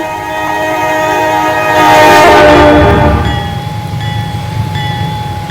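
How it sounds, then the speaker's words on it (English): Norfolk Southern freight train horn, a loud sustained multi-tone blast that swells and then fades as the train rumbles past, with a lingering tone trailing off. "NS honked his horn."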